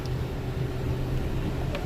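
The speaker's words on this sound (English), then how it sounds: "it's not good for the engine to strain like this" A car engine strains at low speed, stuck in low four-wheel-drive range, giving a continuous low, rumbling drone with steady road and wind noise.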